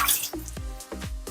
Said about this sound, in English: let me pour off this juice first